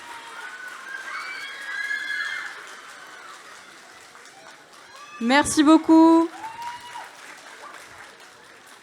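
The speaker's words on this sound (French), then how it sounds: "On peut les applaudir bien fort." Audience at a cosplay contest in Rouen breaking into applause with some shouts after a performance, the clapping swelling loud and then fading, preceded by a speaker's voice over a microphone.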